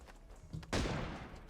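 PUBG gunfire, a single sharp, fairly close shot cracking out and decaying over about a second, with a fainter earlier pop before it.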